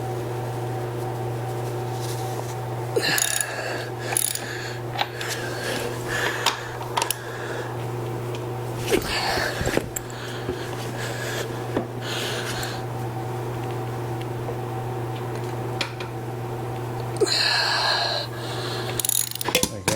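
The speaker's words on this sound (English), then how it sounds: "Take your size 21 socket. Also have your jack all the way lower to the ground, so that way you can put pressure on the tire to loosen these nuts up." A size 21 socket and wrench work loose the lug nuts on a car tire: sharp metallic clicks, scrapes and clanks in irregular bursts over a steady low hum, close by, with no voices.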